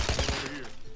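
A shotgun fires in a video game, a quick loud burst of heavy blasts crowded into about a second, close and dominant.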